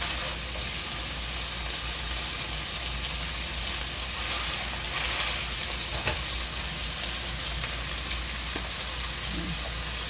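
A homemade burger patty fries in a pan, giving a steady, dense sizzle that runs evenly and fairly loud from start to finish, with a few faint clinks.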